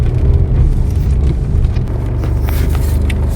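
A vehicle drives through the rain around a barangay, with a steady low engine and road rumble and a hiss of wet tires and rain that brightens toward the end.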